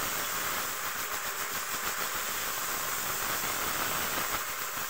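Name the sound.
green chili frying in a pan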